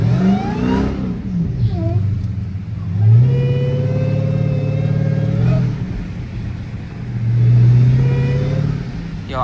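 A supercharged Dodge Demon Charger revs and accelerates on slushy snow roads, its engine drone rising in pitch with a thin whine on top, surging twice in close, steady pulls.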